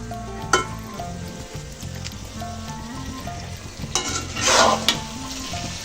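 Bombay chili pickle with tamarind cooking uncovered in a pan, a continuous close sizzle with a couple of brief louder bursts of spattering, no voices.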